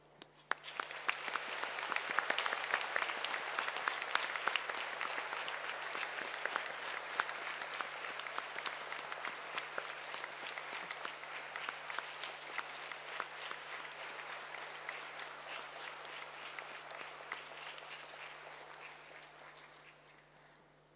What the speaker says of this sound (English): Join me in a round of applause in thanking all of them for their caring and love.